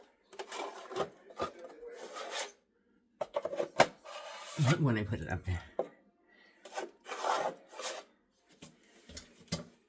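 Drywall mud being sanded by hand, heard as repeated rasping, scratchy strokes in uneven bursts with short pauses between, close by, while people talk over and between the strokes.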